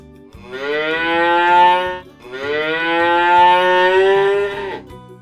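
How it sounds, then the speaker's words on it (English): A black and white cow moos twice, long, loud, close and drawn-out, with a short pause between the calls and no talk over them. "Do you know the sound a cow makes?"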